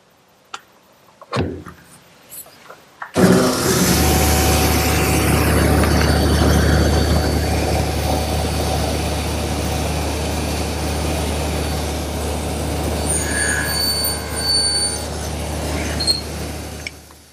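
A table saw nibbling away shoulder cuts on wooden rails for a Shaker wall clock in a woodshop, spinning up with a sharp onset and then running as a loud, sustained whine that wavers slightly as the blade removes material.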